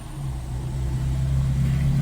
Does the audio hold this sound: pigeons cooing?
no